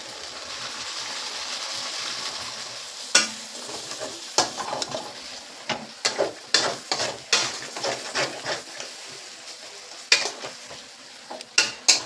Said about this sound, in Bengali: এর মধ্যে টমেটোগুলোকেও ভালো করে কষিয়ে নেব। আঁচটাকে একটু বাড়িয়ে দিলাম।